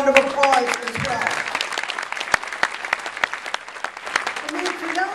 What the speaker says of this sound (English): you deserve a round of applause as well